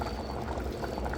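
Sambar rice bubbling in a pot, a dense, steady burble of boiling liquid with small pops, close and fairly soft, without voices.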